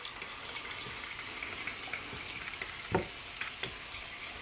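A cooking sauce being stirred on the stove, a steady hiss of frying with light scraping and a few sharper knocks of the spoon against the pot, with no voices.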